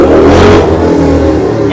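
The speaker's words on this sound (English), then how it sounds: "Who is like riding a loud motorcycle down the street?" A loud motorcycle rides down a street, its engine revving with a low droning rumble that peaks early and then fades slightly as it passes.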